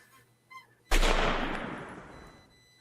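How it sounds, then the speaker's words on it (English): A single sharp pistol shot in a Batman radio drama cracks out close and loud, then decays over about two seconds, after a couple of faint small sounds. "It drops dead from a gunshot to the head from the district attorney"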